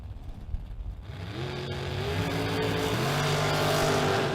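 Drag race run with a dragster, engines revving up from a quieter start and climbing into a loud sustained roar with rising tones at a drag strip.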